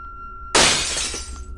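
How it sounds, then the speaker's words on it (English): Glass shatters in a sudden loud burst inside the horror video game Seven Mysteries, a bright crash that breaks over a steady tone and then fades into a long sparkling tail of tinkling shards over about a second. "Sounds like shattering glass."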